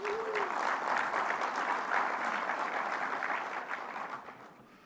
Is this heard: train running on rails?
no